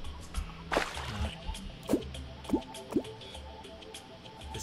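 Water drips and sloshes in the Terraria video game, a handful of distinct wet plops spaced about half a second to a second apart, clear and close.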